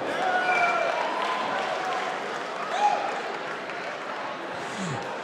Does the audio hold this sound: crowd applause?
yes